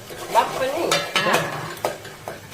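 Spices temper in a pan for a raw banana curry, with a soft sizzle under repeated scraping and stirring and sharp clinks of a utensil against the pan.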